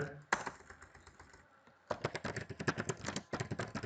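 Rapid clicking of computer keys, typed close up in quick bursts with a short pause partway through.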